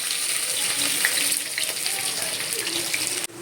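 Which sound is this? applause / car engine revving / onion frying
onion frying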